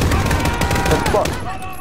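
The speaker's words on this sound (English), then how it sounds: "That was just a random shot." Call of Duty gunfire in a mission battle against a helicopter and airfield, with a rapid, loud burst of shots close by that fades into a short ringing tail.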